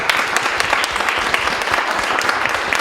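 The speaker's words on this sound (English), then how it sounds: "round of applause" An audience claps at an Internet Society Canada chapter panel event on AI and employment, with thick, continuous applause from many hands that stays loud and even from start to finish.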